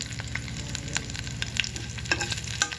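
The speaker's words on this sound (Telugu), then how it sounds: "వేసుకున్నాక పోపు మాత్రం వేగాలి ఫ్రెండ్స్." Curry leaves, ginger pieces and tempering spices sizzle and crackle steadily in hot oil while preparing ajwain fried rice, with occasional sharper pops and stirring sounds over a constant frying hiss, no talking.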